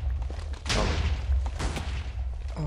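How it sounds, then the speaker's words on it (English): A cannon fires in a Minecraft Overcast Network match, giving two loud booming blasts with rumbling tails over steady low background noise. "they're firing a cannon at the Has Labs"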